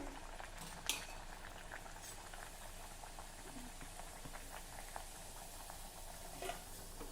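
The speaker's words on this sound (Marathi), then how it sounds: "उरलेले खरोचे देखील हळूवारपणे मी तळून घेणार आहे" Pearl millet kharoche deep fry gently in oil with a soft, bubbling sizzle and occasional light clinks and taps from a utensil. The sound is quiet and close, with no speech.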